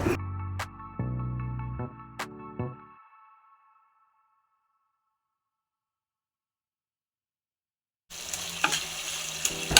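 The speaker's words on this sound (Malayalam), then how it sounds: "തക്കാളി നന്നായി വെന്ത് ഉടയുന്നത് വരെ ഇളക്കി കൊടുക്കുക" Tomatoes frying and being stirred in a pan for an anchovy, ash gourd and coconut curry: a few sharp metallic spoon knocks over sizzling at first, then a long silence, then loud frying noise returns.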